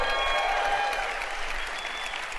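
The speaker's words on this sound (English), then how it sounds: "Let's give Howard a round of applause" An audience at a live business event in Boise claps for Howard Berg, the world's fastest reader, a steady wash of applause heard at a moderate distance and fairly soft throughout.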